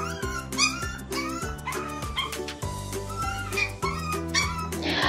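A poodle puppy cries loudly and repeatedly, high whimpering yelps and whines in quick succession, close and insistent, ending with a burst of noise.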